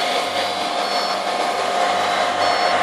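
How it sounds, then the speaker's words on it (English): A hair dryer blows steadily on a temperature sensor of a smart safety security system, a loud, continuous airy whir with a faint motor hum throughout, heard alone and close. "leaving the hairdryer on the temperature sensor, which means it's getting pretty hot"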